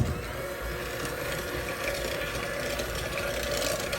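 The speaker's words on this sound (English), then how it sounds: "we're going to beat them until they're combined" A stand or hand mixer beats butter and sugar together for a gluten-free maple butter cake batter, giving a steady, continuous mechanical whir with a rattling, grinding texture throughout, close and unbroken, with no talking.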